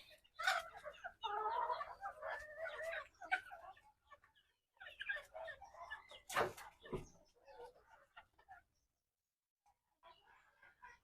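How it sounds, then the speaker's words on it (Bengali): Several native chickens cluck and squawk in short bursts at a small backyard chicken farm, fairly close and quiet, with pauses between calls. "এই হলো আমার দেশি মুরগির ছোট্ট খামার"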